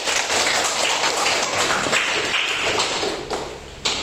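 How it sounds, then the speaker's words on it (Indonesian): Classroom applause during a classical group guidance and counseling session, a dense, steady wash of many hands clapping for about four seconds with a few sharper taps near the end. "Aplaus dulu untuk teman-teman"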